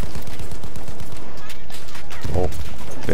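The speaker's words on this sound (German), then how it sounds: "Wer knallt denn hier alle ab gerade?" Rapid bursts of gunfire crackle through a Battlefield 1 multiplayer match, dense volleys up close with a few heavier shots near the end, all continuous and loud.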